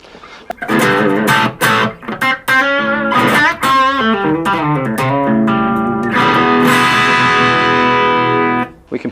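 A crunchy, overdriven electric guitar through a Blackstar ID:Core BEAM amp on its crunch setting plays loud chords and ringing notes with gritty distortion, sustaining between strums, with no voices.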